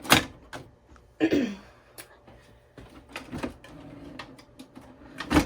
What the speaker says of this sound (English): put your cover back on. Okay, you want that lever to lock into place.